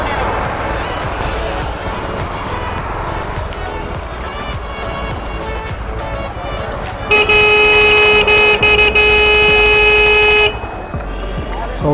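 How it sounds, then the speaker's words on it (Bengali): A motorcycle horn blares in one long continuous honk for about three seconds to summon a group of riders before a ride from Kolkata, following street noise and traffic. "তাই হর্ন দিয়ে এইভাবে ডাকছি আমি সবাইকে।"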